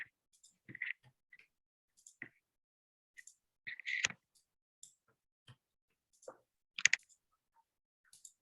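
Quiet, sparse clicks and taps from a computer mouse and keyboard in an office setting. They come as scattered single clicks and short clusters with gaps of silence between them, close but faint.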